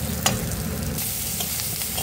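Mustard seeds, cumin, chana dal, urad dal, dried chillies, curry leaves and crushed garlic sizzling in hot oil, a dense, steady crackling hiss with a sharp pop near the start and light scraping.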